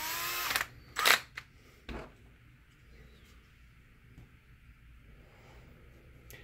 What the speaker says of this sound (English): You have to be careful when you use a cordless screwdriver